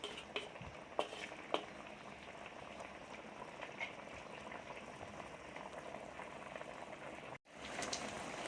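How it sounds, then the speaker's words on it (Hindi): Chicken with garlic-ginger and green chilli paste fries in a karahi, a steady close sizzle and bubbling hiss with a few louder pops and stirring knocks, then a brief cut before the sizzle resumes. "अच्छी तरह जो है इसकी हम भुनाई करेंगे यहाँ पे, ताकि चिकन जो हमारा अच्छी तरह भुन जाए"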